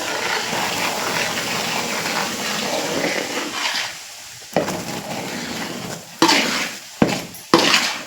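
Flour being worked by hand into a warm mixture for laddu, a soft continuous rubbing and squishing that drops away midway, followed by several sharp knocks against the vessel.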